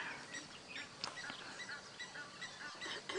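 Comb ducks calling outdoors on a morning safari drive, a quiet scatter of brief honking, goose-like calls at moderate distance, with sharper bursts near the one-second mark and again toward the end.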